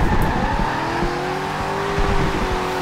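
A Porsche 911 GT2 RS with stock motors drifts in Forza Horizon 2, its engine droning loud and close under a long, sustained tire squeal as it slides in third gear, without voices.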